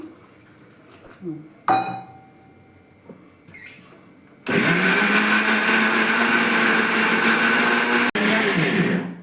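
A mixer grinder grinding green gram dosa batter starts up partway through and grinds loudly and steadily for several seconds, with a brief cut near the end; quieter kitchen handling sounds come before it.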